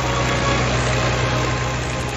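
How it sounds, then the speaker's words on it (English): Four Rolls-Royce Merlin 20 piston engines on an Avro Lancaster bomber, each around 1,200 horsepower, producing a steady, close, loud drone with a throbbing low rumble and no voices. "the Lancaster's key attribute, the four legendary Merlin engines mounted on its wings"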